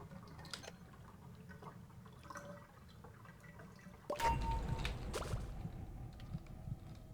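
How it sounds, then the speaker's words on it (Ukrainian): Water draining in the video game Dandy's World: faint drips and trickles at first, then a louder gurgling, pouring rush that begins partway through and carries on to the end. "От такі звуки, як будто спускається вода, не наливається."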